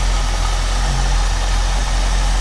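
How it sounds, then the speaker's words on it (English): A 1968 Ford Mustang with a 289 V8 idles roughly and steadily, a close, low continuous rumble with no voices over it. "I don't know if it's misfiring or if it's just 1968 engine idling away"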